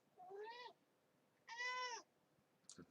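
A house cat meows twice, two drawn-out calls about a second apart, fairly faint and close in a quiet indoor room, followed by a brief shuffle.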